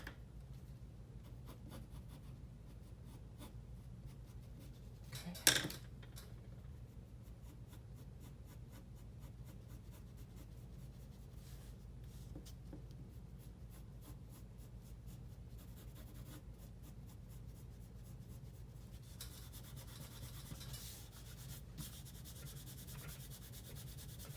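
A pencil sketches outlines on paper in a steady, faint scratching and rubbing, with one brief louder tap partway through and a quiet continuous background.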